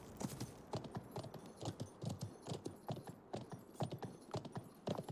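Horse hooves clip-clopping in the online medieval war game Conqueror's Blade, a quick steady galloping rhythm of sharp near thuds running throughout with no talk over it.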